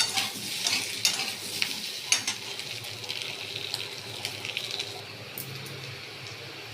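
Ginger paste fries in a pan with shrimp and taro curry ingredients, giving a soft, close sizzle with scraping stirs that are busiest early on, then settle into a quieter, steady hiss.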